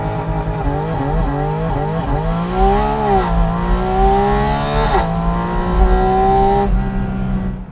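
A Porsche 718 Spyder RS accelerates hard with its loud intake roaring, engine pitch rising and dipping through gear changes in a steady, close, continuous run with no talking.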